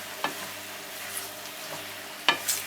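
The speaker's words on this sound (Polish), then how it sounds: "I mieszamy wszystko oczywiście, że nam się nie przepaliło." A spoon stirs a creamy mushroom and garlic cream sauce in a pan on a turned-down stove, giving a few soft scraping strokes over a gentle, continuous sizzle, close and quiet.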